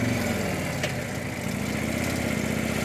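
Harley-Davidson Ultra Limited motorcycle with an SE120R engine running steadily under a ride, a continuous low, throaty rumble with harmonic drone and wind roar, no talking.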